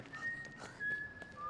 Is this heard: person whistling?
yes